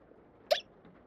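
A single sharp hiccup from a woman, brief and close, standing out against a quiet room.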